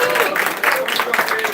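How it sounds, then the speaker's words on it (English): A campaign rally crowd claps and cheers for Steve, a loud burst of close, dense applause with voices mixed in over its short length. "Want to give Steve a round of applause."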